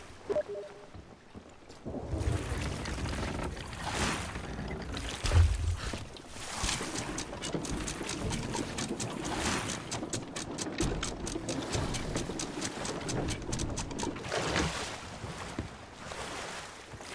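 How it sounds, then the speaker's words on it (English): Water sloshing and lapping against a shipwreck in the pirate game Sea of Thieves, a steady washing surge with splashy swells running throughout, fairly loud and continuous with no talk over it. "I guess it's just the water like sloshing up against the wreck."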